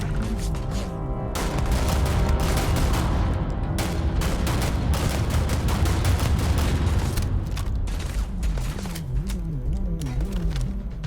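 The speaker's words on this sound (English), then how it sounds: "trying to shoot his backpack, but I'm not doing very good" Rapid, sustained bursts of gunfire from the player's weapon in the sci-fi game Starfield rattle loudly and continuously, with a wavering electronic tone running underneath.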